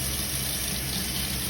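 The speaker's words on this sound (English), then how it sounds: "just put it in this sink here and start filling up with warm water." Warm water gushes from a tap into a sink as it fills, a loud, close, continuous rushing splash with no talking.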